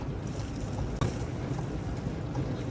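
Steady rain falling outdoors in a Pakistani street setting, a continuous broadband hiss with one brief sharp click partway through, no talking.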